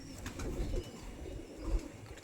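Soft, low pigeon cooing, a couple of muffled throaty coos rising and fading, fairly quiet and with no talk.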